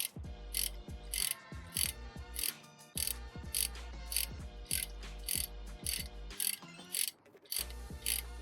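A ratchet loosening the cam chain sprocket bolt on a Honda S2000, giving close, crisp clicking in steady repeated strokes with brief pauses between them.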